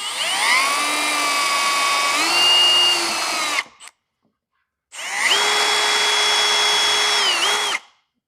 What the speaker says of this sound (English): I'm going to get a 1/4-inch drill bit, my drill, punch a few holes in this